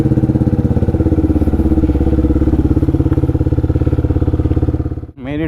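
A motorcycle engine idles close by with a rapid, even thumping pulse that holds steady, then sputters and cuts out briefly before restarting near the end.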